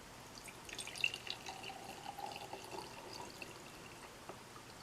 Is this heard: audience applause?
no